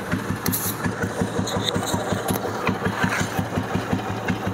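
A restored 1990 Bullet motorcycle with its original engine idles at a slow pace, giving a steady, loud, evenly spaced thumping beat with no voices over it.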